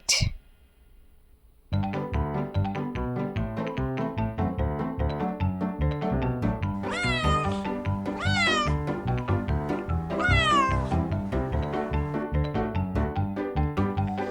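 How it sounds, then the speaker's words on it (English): After a brief quiet start, music plays while a cat meows three times, each meow drawn out and rising then falling, fairly clear and close. "cat"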